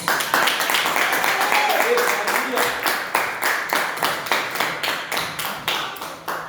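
Church congregation applauding during a Sunday service, a fast, rhythmic burst of many hands clapping in steady unison beats, loud and close, with voices mixed in.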